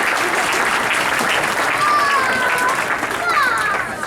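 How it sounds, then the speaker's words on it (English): A wedding reception crowd applauds steadily after a best man's toast, dense clapping filling the room at close range with a few brief cheers or whistles rising above it. "So if we could give them a quick round of applause."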